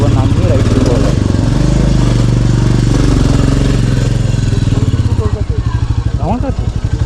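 A motorcycle's engine runs loud and close, its rumble rising as the rider pulls away at the start of a hot-weather ride on the Char Dham route in Uttarakhand, with brief voices heard over it.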